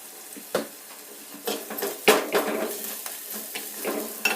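Curry leaves and asafoetida dropped into hot oil for marunthu rasam, giving a close, continuous sizzle broken by several sharp crackling bursts and a few pan clinks.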